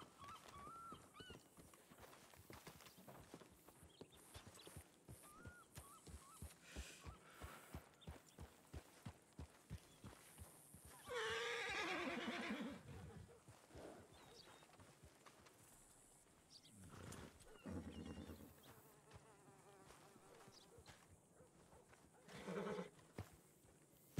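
A horse in a ranch video game clops its hooves in steady, repeated steps and neighs once in the middle, all fairly faint with quiet game ambience.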